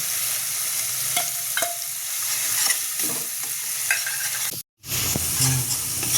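Spiced masala of chilli, turmeric and coriander powder with salt fries in oil in a pan, a steady close sizzle broken by scraping stirs of a spoon and a brief dropout, with no talking.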